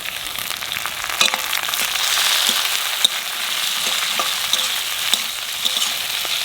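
Tomato frying with browned onions in a pan for winter khichuri, a bright, steady crackling sizzle with scattered spatula taps and scrapes, close and fairly loud, without speech.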